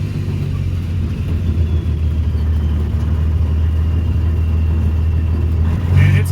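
A 2003 International 2574 truck with an Eaton 18-speed transmission idles steadily close by, a deep continuous diesel rumble that rises slightly at the very end.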